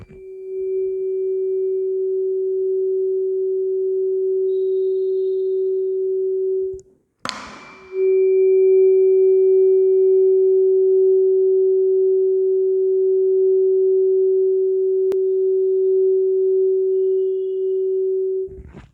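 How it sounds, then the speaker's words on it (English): A 380 Hz tuning fork rings as a pure, steady, loud tone held close to the microphone, broken once by a sharp knock as it is struck again, then sustaining evenly for over ten seconds. "I am going to bring the microphone very closer to the prong of the tuning fork"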